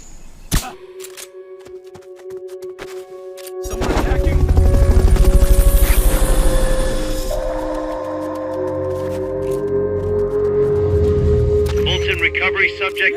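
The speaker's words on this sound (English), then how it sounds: "Recovery subject confirmed onboard helicopter." A recovery helicopter in the Metal Gear Solid V video game, its rotor thump and engine whine rising loud alongside bursts of gunfire, mixed with game dialogue.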